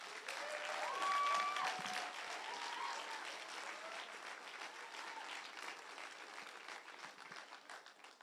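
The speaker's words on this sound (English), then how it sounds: "I'd like you to give them another round of applause." An audience claps at a Grade 5 transition ceremony, sustained applause from a crowd that swells early then continues steadily before easing near the end, with a brief whistle-like tone at the start.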